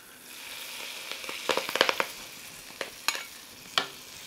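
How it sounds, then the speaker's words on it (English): Hot roasted squash sizzles faintly as dressing is poured over it, followed by a cluster of sharp crackles and tossing clicks in the middle and a few isolated pops near the end. "You hear the sizzle."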